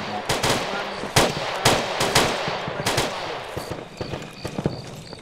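Rapid gunfire crackles through an Arma co-op firefight, with sharp close shots and bursts in an irregular rhythm, then thinner distant shots trailing off.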